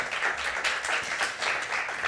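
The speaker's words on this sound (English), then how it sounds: "Another applause, please." An audience at a startup pitch competition claps continuously, a steady burst of applause that swells slightly in waves.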